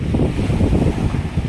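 Ocean waves and wind on the beach at Manila Bay after a typhoon make a loud, close, continuous rumble of surf and wind buffeting, with no voices.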